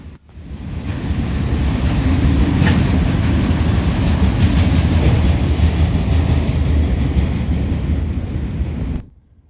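A freight train rolls past on a central Ohio rail line, a steady roaring rumble of wheels and cars that rises quickly, holds loud and close for several seconds, then cuts off.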